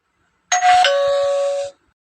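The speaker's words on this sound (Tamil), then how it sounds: "யார் அது இப்ப காலிங் பெல் அமுக்கிறது" A doorbell rings once with a clear two-tone ding-dong chime, ringing out briefly in an otherwise silent room.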